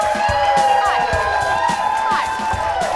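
A full studio audience at a daytime talk show cheers and whoops, a loud, close burst of crowd noise with scattered shouts over several seconds.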